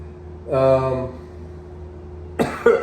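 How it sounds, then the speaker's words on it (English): A person coughing indoors in a newly rented apartment, two separate harsh coughing bursts with a quiet pause between them, heard close to the microphone. "There's something making me cough in here."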